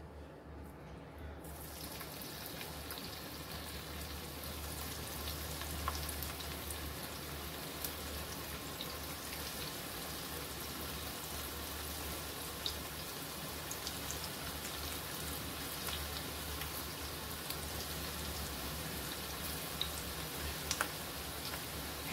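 Sweet corn pakoras deep fry in a pan of hot oil, making a continuous even hiss that holds steady for over twenty seconds with a few faint crackles and no talking.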